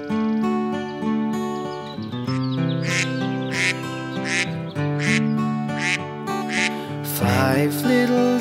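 A singing voice imitates a mother duck's quacking in a children's nursery rhyme, with repeated sung quack sounds over bright, steady musical accompaniment.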